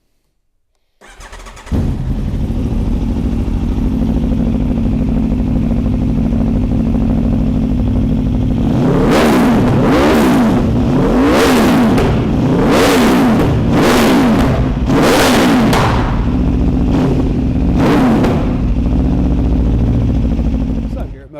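An Aprilia RSV4 1100 Factory superbike with a carbon exhaust fires up and settles into a loud, close idle, then is blipped through a series of sharp revs that rise and fall before returning to idle.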